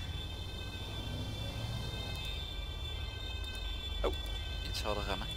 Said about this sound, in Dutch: Ik hoor ook sirenes.